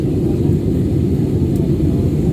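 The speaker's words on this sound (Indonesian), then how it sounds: "setelah pesawat tadi lepas landas di Bandara Sultan Hasanuddin Makassar di Mandai" Loud, steady rumbling cabin noise fills a passenger airliner in flight soon after takeoff from Makassar's Sultan Hasanuddin airport, bound for Sorong, a constant low roar without a break.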